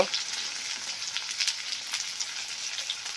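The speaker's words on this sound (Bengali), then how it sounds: "এবার পেঁয়াজ দিয়ে দেবো পেঁয়াজ চলে গেল পেঁয়াজটাকে হালকা করে লাল করে নেব" Onions frying in hot oil in a pan give a steady, close sizzle with light crackles and pops throughout, fairly soft and unbroken, without any talking.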